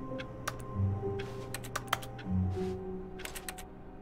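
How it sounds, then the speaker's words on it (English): Keyboard typing in The Stanley Parable video game, a run of quick, irregular key clicks up close, with a soft low hum underneath. "We make typing sounds."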